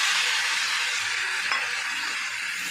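Mustard paste, made from mustard powder soaked in hot water, being stirred into a sizzling dish in a pan; a steady broadband hiss and sizzle runs throughout with a faint scrape of stirring, near and fairly loud, no voices.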